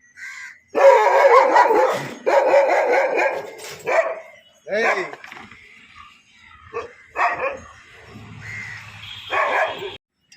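A Rajapalayam dog barks in a loud, close series of sharp, repeated bursts with short gaps between them, ending with a few softer barks and faint whimpering.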